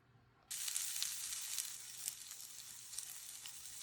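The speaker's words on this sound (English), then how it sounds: "My onions have been cooking for probably 5 to 10 minutes, and you can see they're starting to get brown" Onions fry in olive oil over medium heat for a vegetable frittata. After a brief quiet moment, a steady close sizzle starts suddenly and carries on with faint crackles.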